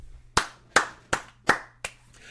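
Five sharp, separate hand claps close by, spaced at an even, deliberate pace, with near silence between them.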